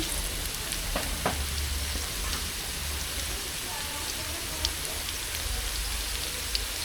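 Chopped onion and raw green banana peel fry in a pan with salt, giving a steady close sizzle with a few sharp pops and spatula clicks throughout.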